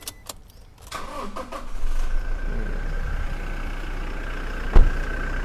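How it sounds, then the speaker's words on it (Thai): A 2019 Toyota Hilux Revo 2.4 diesel pickup engine cranks and starts after some brief clicks and knocks, then settles into a steady, low rumbling idle close by. "เดี๋ยวสตาร์ทให้ ฟังเสียงเครื่องยนต์ด้วยนะครับ"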